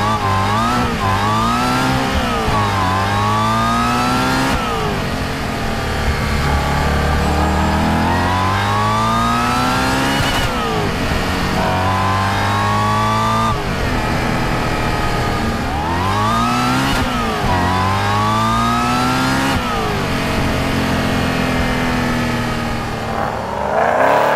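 A supercharged stage 3 Audi RS4 engine revs hard through repeated acceleration runs, pitch climbing and dropping with each gear change, loud and close throughout with no talking.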